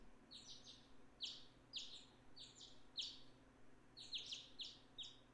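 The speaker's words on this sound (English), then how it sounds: "The birds chirp, chirp, chirp, chirp, chirp" Birds chirp in the visual novel Hakuoki: Edo Blossoms, quick bright tweets in clustered groups repeating steadily over a faint background hum, with no talking.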